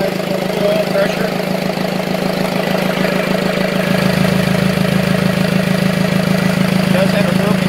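A Cummins 4BT diesel engine on an open test stand idles steadily up close, loud with a rough, even low-pitched clatter that holds constant without revving.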